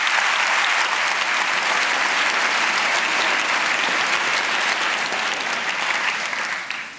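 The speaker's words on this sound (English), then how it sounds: "I think we can applaud them." Theatre audience at the Prix de Lausanne 2017 ballet competition finals applauding in a long, even, dense wash of clapping that holds steady and begins to taper at the end.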